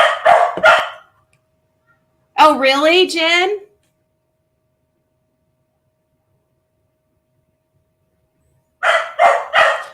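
Dogs bark in short, sharp bursts close by indoors, a quick cluster at the start and another at the end, with a person speaking briefly in between and silence around it.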